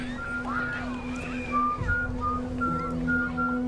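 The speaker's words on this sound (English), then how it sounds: "Whistling that tune." Someone whistles a slow, wavering tune in clear sliding notes over a steady low hum, quite near, in a dramatic crime scene.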